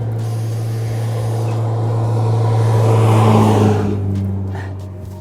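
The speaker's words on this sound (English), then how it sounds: "There's a car coming," A car passes by on an Australian road. A steady engine hum swells toward the middle and then fades as it moves off.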